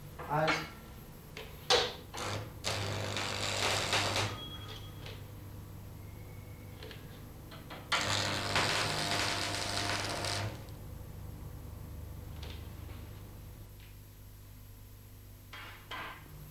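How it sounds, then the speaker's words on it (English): Steel plates being tack welded with an arc-welding electrode: two multi-second bursts of loud crackling, sizzling hiss, separated by quieter stretches with a steady low hum and a few sharp knocks. "Tack weld one end as before."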